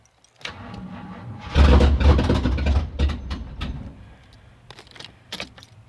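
A Jeep Cherokee engine cranks and briefly catches close by, a loud rough burst of running that sputters and fades over a couple of seconds, followed by a few clicks and knocks.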